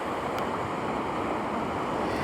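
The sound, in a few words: ocean waves coming in at sunrise shoot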